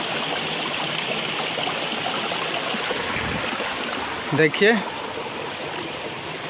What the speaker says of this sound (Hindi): झरना कहाँ से गिर रहा है वो आप लोग को चलिए दिखाते हैं।